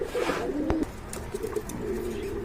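Pigeons at a Bangladeshi market coo in low, soft, repeated bursts close by, with a sharp click partway through and faint background chatter.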